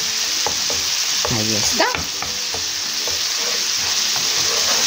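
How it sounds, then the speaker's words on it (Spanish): Red chili pepper (ají colorado) fries in a pan for a chickpea and spinach dish, a continuous close sizzle with stirring clatter, and a voice speaks briefly. "darle también el tiempo a este ají colorado, hacerlo que dore, que se fría muy bien."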